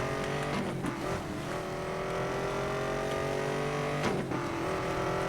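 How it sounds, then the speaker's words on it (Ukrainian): A Corvette races at speed in Need for Speed: Most Wanted (2012), its engine a loud, steady roar that holds throughout with brief dips and surges as it shifts and corners. "А ми швидко можемо їхати на цьому корветі."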